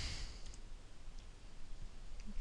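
Fast typing on a computer keyboard during Arduino programming, with quiet, rapid clicking keystrokes over faint room noise.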